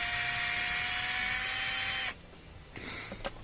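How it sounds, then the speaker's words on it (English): A power driver fitted with a 9/32 bit whirs steadily and loudly for about two seconds while backing out a screw on a Yukon, Tahoe or Silverado heater and AC controller, then stops, followed by faint clicks and handling. "we have a 9/32 bit we're going to use to remove a couple of these screws"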